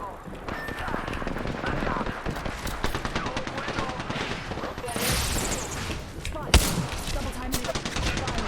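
Rapid gunfire bursts crackle in an Apex Legends match, dense and continuous with one sharp louder shot near the end, mixed under game sounds and ongoing speech.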